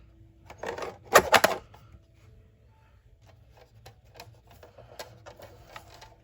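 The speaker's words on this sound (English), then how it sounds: "This is just a simple deco cutter. And I'm gonna go ahead and trim this." A Tim Holtz deco cutter trims paper in a quick cluster of sharp clicks and crunchy cuts, followed by fainter scattered taps and ticks close to the microphone.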